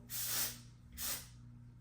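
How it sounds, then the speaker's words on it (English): Texture spray misted onto hair in two short hissing bursts, close and fairly quiet, with a steady low hum underneath. "I can spray this on"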